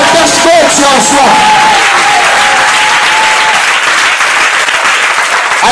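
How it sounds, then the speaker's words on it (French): Church congregation applauding and cheering loudly during a Sunday service, dense sustained clapping with shouts and whoops throughout, voices raised over the noise. "J'ai besoin d'une acclamation qui fait trembler les démons"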